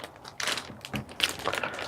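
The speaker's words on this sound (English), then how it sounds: "Let's take it out of this plastic bag." A new Logitech MK520 keyboard is being pulled out of its protective plastic bag, and the plastic crinkles and rustles in bursts close to the microphone, with no voices.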